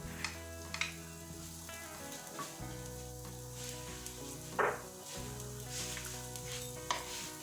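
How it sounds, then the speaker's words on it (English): Onion sizzles steadily in a hot pan, a continuous crackling hiss with occasional sharper spits and a soft stirring scrape. "With a little bit of a sizzle. You know I like a good sizzle."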